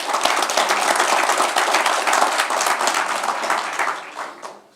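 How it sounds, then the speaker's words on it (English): Audience at a talk on a Hungarian utility company's lean journey clapping for the speaker, a loud dense burst of many hands that holds steady and then tapers off near the end. "So would you please give a clap, so a hand for the speaker."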